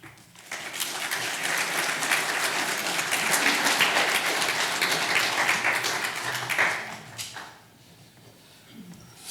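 Congregation applause in a church service fills the room for about seven seconds, steady dense clapping from many hands that swells slightly near the end before fading to quiet murmurs.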